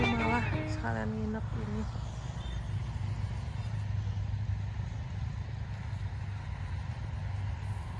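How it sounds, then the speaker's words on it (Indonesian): Cars pass by on a nearby road outside a hotel, a steady low traffic rumble continuing throughout after brief talk at the start. "banyak suara mobil lalu lalang"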